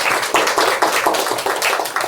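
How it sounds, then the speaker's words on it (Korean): Audience applause at a 2013 philanthropy conference on CSR in Korea, welcoming the final speaker from LG Electronics' social contribution team; steady, dense clapping fills the room for a couple of seconds at moderate loudness. "따뜻한 박수로 맞아주시기 바랍니다"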